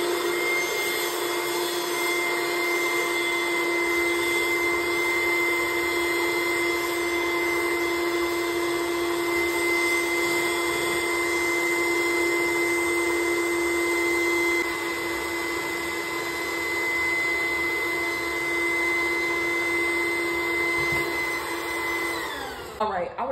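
An electric balloon inflator pump inflating balloons for a graduation balloon column, running as a loud, steady whining drone for over twenty seconds, then sputtering briefly at the end.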